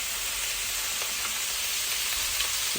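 Sausage sizzles steadily in a frying pan as it is turned, a continuous close hiss of hot oil with faint scraping and no talking.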